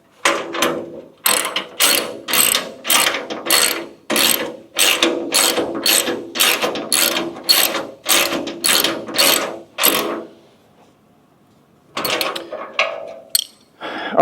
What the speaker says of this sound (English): You can see how much faster it is with a ratchet and a 14mm